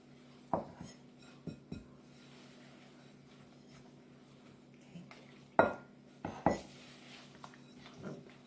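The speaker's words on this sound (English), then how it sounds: "mixture together with your spatula" A silicone spatula scrapes and knocks against a bowl while brown bread batter is mixed, a few sparse soft clacks and taps spaced apart over quiet background.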